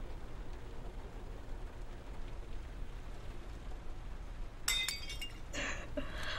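Glass lizard figurines smashing in the Heavy Rain video game: a sharp shattering crash with tinkling shards, then a second break, following several quiet seconds of steady rain-like ambience.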